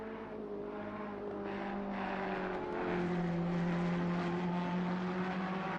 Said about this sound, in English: With the cars in the background, I've got the car audio bumped up a bit,